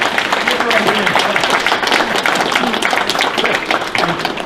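An audience applauds at a lifetime achievement award presentation for a magician. The clapping is dense, loud and steady throughout, with a voice talking over it.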